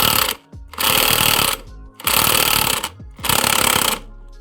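Impact wrench hammering at the front pulley nut of a Honda Scoopy eSP scooter, three loud, close bursts of rapid rattling blows, each about a second long with short pauses between.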